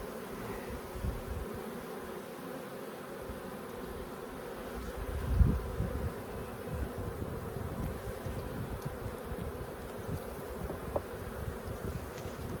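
Honey bees hum and buzz around an open hive during an inspection at the Holts Summit bee yard, a steady close drone with occasional louder passes and a brief knock midway.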